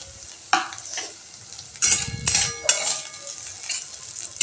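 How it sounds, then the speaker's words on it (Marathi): Potato pieces stir-fried in oil for a fasting-day dish crackle and sizzle up close, while several distinct scraping and clinking stirs of a spoon against the pan cut through the frying. "आणि छान असं परतून घ्यायचं आपल्याला बटाटे तेलामध्ये"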